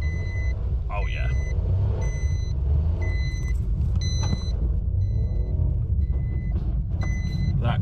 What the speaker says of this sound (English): That clutch is slipping like crazy.